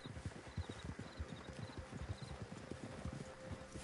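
Horse hooves clip-clop steadily on the ground in Red Dead Redemption II, a busy, close rhythm of several animals moving together, with a faint whinny and muffled voices in the background.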